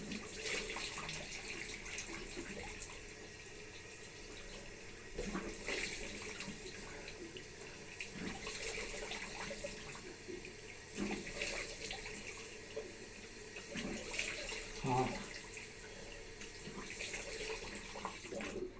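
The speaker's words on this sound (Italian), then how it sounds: "che bella l'acqua calda" Hot water runs steadily from a tap into a sink, a soft continuous rush with slight splashing and one brief exclamation.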